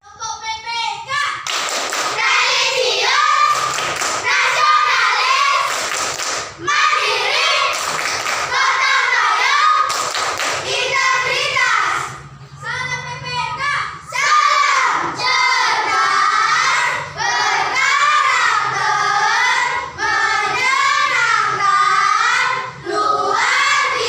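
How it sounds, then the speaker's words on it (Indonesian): A class of children claps and chants the PPK clapping chant together, loud rhythmic bursts of voices and claps repeating in sections with brief pauses. "Ayo kita tepuk PPK sama-sama ya"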